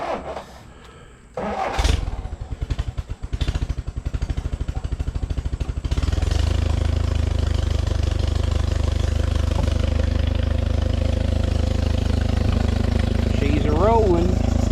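An old engine with no safety switch, left in neutral, is cranked with a fast chugging turnover, then catches and settles into a loud, steady running drone, with a voice briefly heard near the end.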